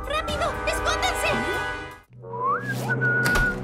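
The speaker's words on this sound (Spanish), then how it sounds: "¿El inconfundible silbido del director Mundo?" A melodic cartoon whistle in a Spanish-dubbed children's animated show, a wavering tune over background music, followed by a second rising whistle after a brief pause.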